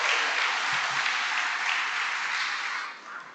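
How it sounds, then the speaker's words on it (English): A dense, sustained round of applause fills a hall at an awards ceremony in Rochdale Town Hall, loud and even throughout, then it begins to thin out near the end. "Let's give them a well-deserved round of applause."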